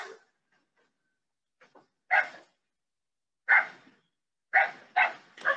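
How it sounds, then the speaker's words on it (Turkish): Sheepdog puppies bark at sheep along a fence in several sharp, separate barks. The barks come close together near the end, with quiet gaps between them. "The puppies start to bark when the sheep are on the fence"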